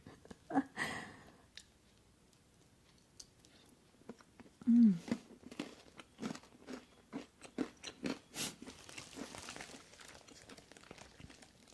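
Someone bites into and chews crunchy pumpkin pie bark close to the microphone, with quiet crisp cracks followed by a run of soft rhythmic crunching, faint and intimate.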